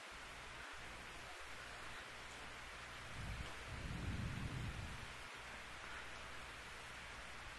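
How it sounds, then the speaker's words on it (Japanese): Heavy rain pours steadily at a football stadium during a Japan Football League match between Suzuka Point Getters and MIO Biwako Shiga, with a deep rumble of thunder swelling midway and a few low thumps, and no talking. "さあ雨が止む気配がないですね。"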